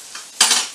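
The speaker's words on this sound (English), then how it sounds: "Throw our eggs in." Eggs dropped into a hot pan of chicken pad thai, a sudden loud burst of sizzling that flares up close and then holds steady for a moment, with no voices.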